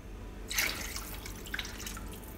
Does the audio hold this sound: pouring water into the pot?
yes